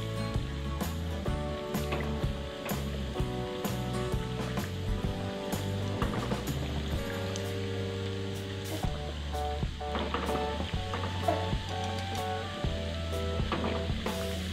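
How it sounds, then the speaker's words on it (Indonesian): Vegetable-filled bread rolls fry in hot oil, a continuous crackling sizzle with occasional louder pops, heard close and steady throughout, with a persistent tonal hum running underneath. "Di sini aku udah siapin minyaknya, ini minyaknya udah panas. Sekarang kita goreng."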